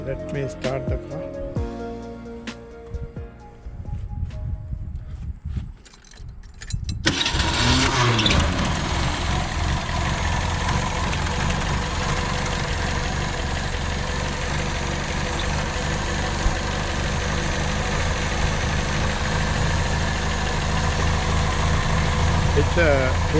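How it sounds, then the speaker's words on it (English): A 1929 Mercedes-Benz kit car with a 12-volt system cranks into life after a quieter stretch with a voice, then settles into a steady, loud, close idle that runs continuously to the end. "Let me start the car."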